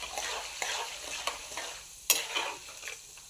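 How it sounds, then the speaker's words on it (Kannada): Mustard seeds, cumin, chana dal and urad dal fry in hot oil with a steady, faint sizzle. Soft stirring scrapes and a few sharp pops break through, and a sharper clatter lands near the middle. Nobody speaks. "ನೋಡಿ ಫ್ರೆಂಡ್ಸ್, ಚೆನ್ನಾಗಿ ಫ್ರೈ ಆಗ್ತಾಯಿದೆ ಫ್ರೆಂಡ್ಸ್. ಸಾಸಿವೆ, ಜೀರಿಗೆ, ಕಡಲೆಬೇಳೆ,"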